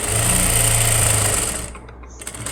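A sewing machine stitches a blouse sleeve with violet thread, whirring rapidly and steadily up close for over a second before stopping, followed by a few faint clicks.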